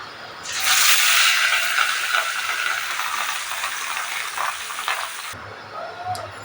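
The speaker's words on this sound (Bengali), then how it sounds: "মাছগুলো তাহলে ভেজে নিই তাড়াতাড়ি, ঝটপট করে, দেরি করা যাবে না।" Fish pieces frying in hot oil for a home-cooked fish curry, a loud, steady sizzle that bursts in suddenly, holds for about five seconds, then cuts off, leaving only faint background.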